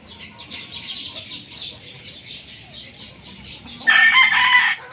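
At a gamefarm, chickens cluck and chirp steadily before a loud, close rooster crow rings out near the end.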